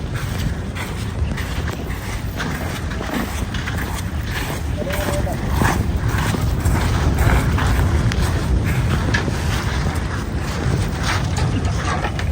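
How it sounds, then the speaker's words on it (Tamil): Boat motor running steadily during a lagoon safari ride on Kottukal Lagoon near Pottuvil, with wind buffeting the microphone and a continuous low rumble throughout, loud and close, with people talking. "எங்கள் போட் வந்துட்டு கொஞ்சம் வெயிட் பண்ணிட்டு இருந்தேன்"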